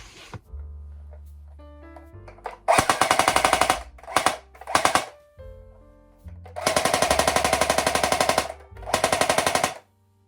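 A restored Steyr AUG rifle fires rapid full-auto bursts: a short volley, two quick short bursts, then a long sustained string and a final burst. The reports are loud, sharp and close, with brief quiet gaps between them.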